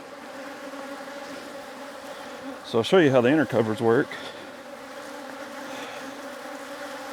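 Bees buzz around an open beehive in a steady, droning hum that fills the whole clip at moderate level, while someone speaks briefly close by in the middle.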